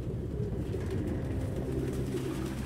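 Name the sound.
pigeons cooing in the video game Detroit: Become Human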